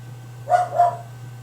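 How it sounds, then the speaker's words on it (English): Two dogs bark at a fox outside in the night, two quick barks in a row, somewhat distant, over a steady low indoor hum. "so you can probably hear my dogs barking."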